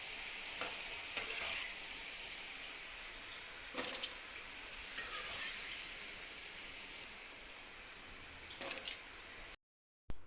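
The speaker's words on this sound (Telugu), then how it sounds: "సెకండ్ టైం కూడా గోల్డ్ కలర్ వచ్చే వరకు ఫ్రై చేసుకోవాలి." Bitter gourd slices frying in hot oil give a soft, steady sizzle throughout, with a few brief clinks and scrapes, before the sound cuts out briefly near the end.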